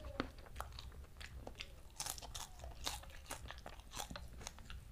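Crisp, crunchy chewing of fried salted fish, eaten with sambal terasi, petai, tofu and bitter melon, close and steady with repeated bites and crackling crunches, no talk.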